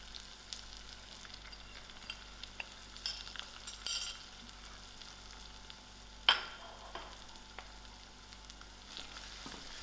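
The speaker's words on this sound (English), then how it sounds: "To my oil, I'm going to throw in my masalas." Masala spices and curry leaves sizzle in hot oil with a faint, steady frying hiss, marked by scattered crackles and one sharper pop partway through.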